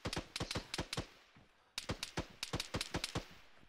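Rapid bursts of gunfire from a weapon in the video game Arma 3, two loud clusters of sharp, closely spaced shots separated by a brief pause, each burst fired in quick automatic succession.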